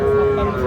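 A Sahiwal bull calf at the Ambari cattle market lets out a single sustained moo, loud and near, over faint market bustle.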